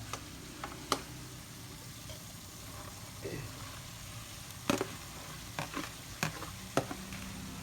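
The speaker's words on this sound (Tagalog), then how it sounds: "Isagol na ako ni unsa ni patatas, Carrots, sayote." Potatoes, carrots and chayote stir-fry in a pan with cooked meat, a soft steady sizzle under scattered sharp scrapes and taps of a utensil against the pan, close and fairly quiet.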